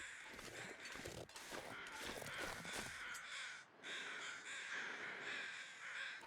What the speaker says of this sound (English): I think those are all carrion crows that I'm hearing